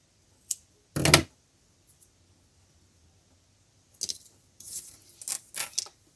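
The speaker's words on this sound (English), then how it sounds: "Just going to cut that tail off so it's a bit easier to see what we're doing." Scissors snip off a tatting thread tail during beaded shuttle tatting: a faint tick, then one sharp close cut near the start, followed by a quiet pause and a few light rustling clicks as the work is handled.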